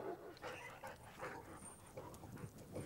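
A dog barks and whimpers in quick, irregular yips, faint and some distance away, over a dense outdoor background hiss.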